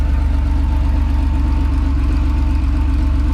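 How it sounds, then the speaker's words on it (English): A 1983 Porsche 911 with an aftermarket exhaust idles close by, a steady, deep rumbling drone with an even low pulse that holds unchanged throughout. "Just enough of a rumble to let you know it's not stock"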